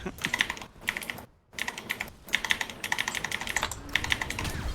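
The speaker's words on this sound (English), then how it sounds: "he keeps his mic like right next to his keyboard, so all you hear is clackety clack" Rapid typing on a computer keyboard sits right next to the microphone, a dense stream of close, clacky keystrokes in bursts with a brief pause, loud and crisp.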